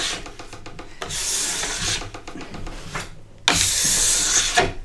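Wax is scraped off a snowboard base in repeated long rasping strokes, with short pauses between passes and a louder, harsher stroke near the end.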